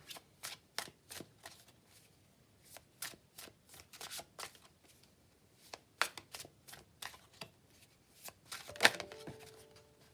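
Tarot cards from the Mons Tarot deck being shuffled, a run of crisp riffling bursts and flicks repeating irregularly close to the mic, with a sharper clatter near the end, no talking.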